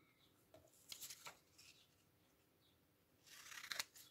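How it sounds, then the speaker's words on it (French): Quiet snips of scissors cutting paper labels, a couple of quick cuts early on, then a pause and a busier cluster of rustling snips near the end. "On va venir découper nos petites étiquettes."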